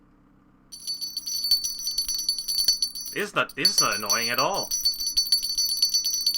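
A small bell jingles continuously and fairly close, ringing steadily while a person speaks briefly over it.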